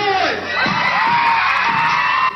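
A Chicago concert crowd shouts and whoops for a rapper on stage, loud and close, with rising yells and cheering layered over each other, filmed from within the audience.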